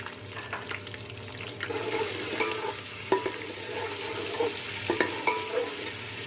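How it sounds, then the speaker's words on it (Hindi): Ginger garlic paste frying with browned onions in a pan for chana pulao, giving a steady sizzle with scattered stirring scrapes and spatula knocks, close and continuous. "अभी इसमें हम अदरक लहसुन का पेस्ट डालेंगे।"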